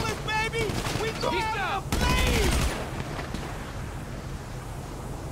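A short, loud burst of gunfire lands as a headshot in GTA Online. It rings out amid a busy mix of game sounds and chatter, then fades into a low background wash.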